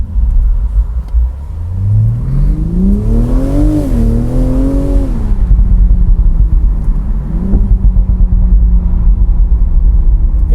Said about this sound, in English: it's making more overrun noise as well